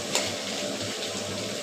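A cooking stove roars steadily while bitter gourd fries, a constant loud rushing hiss with one brief clink near the start and no voices.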